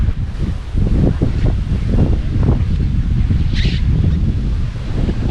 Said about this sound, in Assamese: বতাহ দি আছে